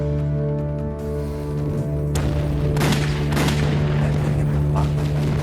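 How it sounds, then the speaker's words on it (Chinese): Gunfire in an anti-Japanese war film, a series of booming shots and rattling bursts over a steady low droning hum, loud and fairly close, with no talking. "枪声"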